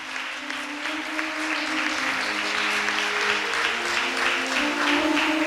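A church congregation at a Parent's Day service claps with both hands, a sustained dense wash of applause that holds steady and swells slightly toward the end.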